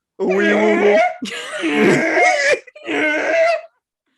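A human voice imitates a Yeti call in three long, wavering groaning howls separated by short pauses, close and loud.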